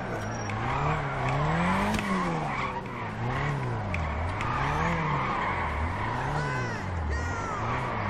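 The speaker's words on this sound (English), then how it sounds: "you get to hear it off the rev limiter" Nissan GTR engine bouncing off the rev limiter while drifting in GTA 5, a loud, continuous wavering engine note rising and falling in regular cycles with tire squeal over it, a voice briefly in the background.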